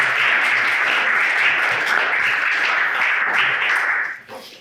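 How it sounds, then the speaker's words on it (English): Audience applause for Mayor Snyder at the Norwood State of the City address, a steady dense wash of clapping at even strength that fades out near the end. "Please give him a round of applause."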